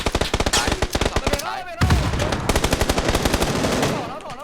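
Rapid bursts of automatic video game gunfire rattle loudly in quick succession, with a short pause and a faint high whine between volleys.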